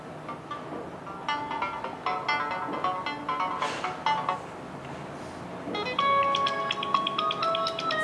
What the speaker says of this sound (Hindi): ये हमारा रिंगटोन हो गया